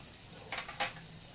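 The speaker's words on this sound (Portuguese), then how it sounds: "Vamos colocar o azeite na nossa panela. Vamos colocar o nosso alho, ó. Esse alho vai dourando." Garlic frying in olive oil in a pan gives a quiet, steady sizzle, broken by two short bursts of stirring scrapes.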